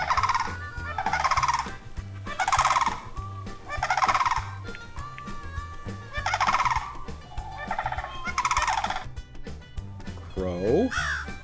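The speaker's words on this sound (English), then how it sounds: "crane," A crane calls repeatedly, giving about eight loud, rolling bugle-like calls in a steady rhythm, with a short voice heard at the very end.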